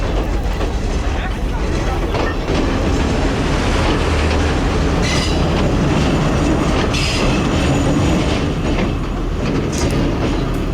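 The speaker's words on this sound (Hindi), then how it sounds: "अभी ट्रेन निकलेगी तो इसके पिछली साइड पे भी हमें एक S14 नज़र आएगा" A passenger train hauled by S14 locomotives rolls past on a scenic line, a loud continuous rumble with rhythmic wheel clatter and occasional brief squeals, close throughout.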